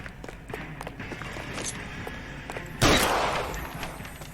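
A single loud gunshot in the detective video game L.A. Noire cracks out near the end of a stretch of running footsteps and clatter, with faint game voices around it.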